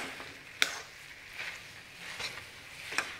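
Grated carrots sautéing in milk in a pan over medium gas for gajar halwa, a soft steady sizzle with a few scraping stirs and light clinks, quiet and close.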